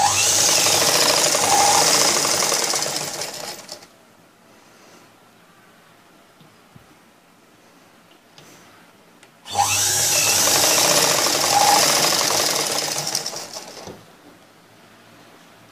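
A sewing machine stitches the front piece of a blouse, its motor running in two steady, fairly loud bursts of about four seconds each, separated by a quiet pause.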